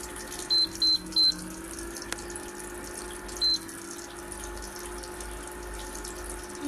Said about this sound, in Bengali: তখন আমি পাতিল বসিয়ে দিলাম পাতিলে জল দিয়ে দিচ্ছি